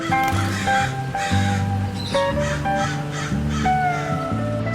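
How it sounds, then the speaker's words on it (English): A crow caws in a series of harsh, evenly spaced calls over a steady tonal musical background. "Crow."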